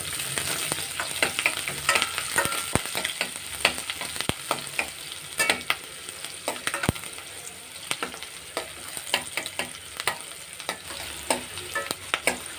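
Green chillies sauté and sizzle in a pan for Kerala inji puli, a ginger-tamarind relish, with a steady frying hiss close by and repeated scraping and stirring clicks of a spoon. No voices are heard.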